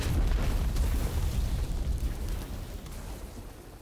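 An explosion destroys a bridge in the video game Broken Ranks: a loud, deep rumbling boom that slowly fades over several seconds.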